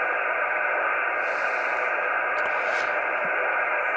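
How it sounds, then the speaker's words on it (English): Steady hiss of received band noise on an Alinco DX-70T all-mode ham radio tuned to 15 meters with no propagation, a constant static wash from the speaker with no voices. "This is the received noise."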